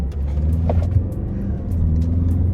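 Steady, loud engine rumble and road noise heard from inside a moving car in traffic as another vehicle drifts over from the next lane, with no talk.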